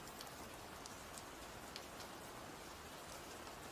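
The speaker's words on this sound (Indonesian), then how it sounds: "Hujan juga jatuh di jalan yang panjang, menyusurnya, dan tergelincir masuk selokan kecil" Rain falls in a soft, steady hiss with scattered faint drops, quiet and even throughout, with no voices.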